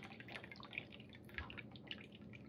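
White wine vinegar trickles and drips from a bottle into a measuring cup in a kitchen while hot sauce is being made, a faint, steady liquid patter with a few brighter drips, no voices.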